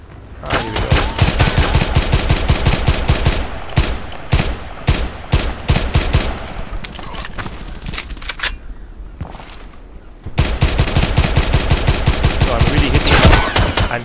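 Rapid single shots from a firearm in the video game Contract Wars crack out in fast bursts, loud and close, with a short pause in the middle before the shooting resumes at full pace.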